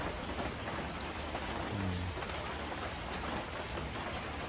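Heavy rain pouring steadily in a rural Thai setting, a dense continuous hiss of drops at moderate level with no pauses, plus a brief faint low tone in the middle.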